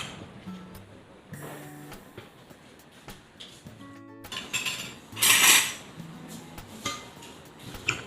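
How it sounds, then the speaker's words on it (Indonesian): Spoon scooping and dropping soft, chilled dough onto a plate while making a pastry, with scattered clinks and scrapes of metal on china, close up and irregular, with no voices. "Dicetak dengan menggunakan sendok gini."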